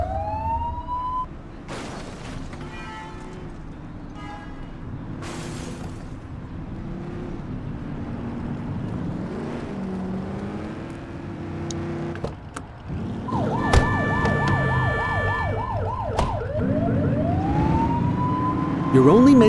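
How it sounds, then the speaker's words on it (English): A police car siren sounds in the video game The Precinct, alternating wail and yelp tones that rise and sweep, loud and close over engine and street noise, with game voices in between. "You're only meant to use the siren in emergencies."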